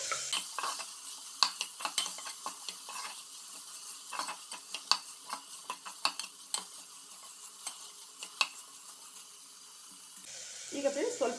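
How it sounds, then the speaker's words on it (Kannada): Vegetable pulao ingredients fry in a pan, a soft continuous sizzle under repeated scraping and clinking stirs of a utensil, with a brief louder rustle near the end. "ಇದೊಂದು 2-3 ನಿಮಿಷ 3 ಮಿನಿಟ್ಸ್ ಹೀಗೆ ಫ್ರೈ ಮಾಡುವ."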